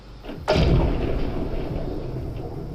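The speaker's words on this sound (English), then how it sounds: "we need an explosion sound when the spaceship blows up." Explosion sound effect for a spaceship blowing up in a Space Invaders game: a single sudden loud boom that starts abruptly and rolls into a long, slowly fading rumble, heard alone.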